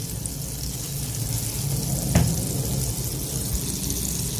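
Cumin seeds frying in melted butter for a tadka for masoor dal, giving a steady low, soft sizzle throughout with one brief sharper crackle partway through, no voices.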